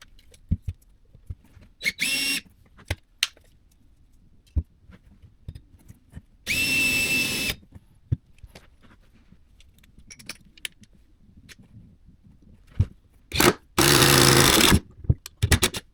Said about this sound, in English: So let's get ready to drill a hole from here